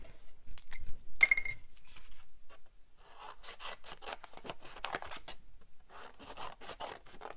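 Scissors cutting through card paper for a handmade card, a series of close, quiet crisp snips and rasping slices in short bursts.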